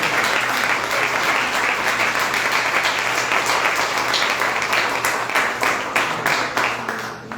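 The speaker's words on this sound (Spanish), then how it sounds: "Denle un aplauso a nuestro Señor." A church congregation applauding their Lord during a sermon, sustained loud clapping from many hands that rolls on steadily for several seconds, with a few sharper individual claps standing out as it slowly thins toward the end.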